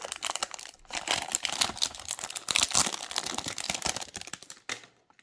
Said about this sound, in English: Now let's take the plastic off.